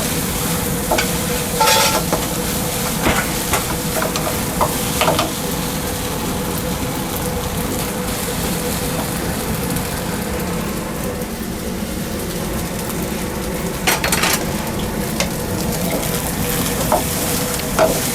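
Vegetables and rice for gluten-free fried rice being stir-fried in a food truck, a steady sizzle with scraping spatula strokes and occasional clanks against the pan, continuous and close.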